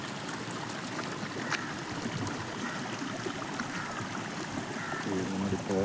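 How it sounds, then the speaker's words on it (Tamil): Small stream water flowing steadily outdoors through a grove, a continuous close trickle and gurgle with no pauses. "தோப்பில் தண்ணி பாயுதுங்க."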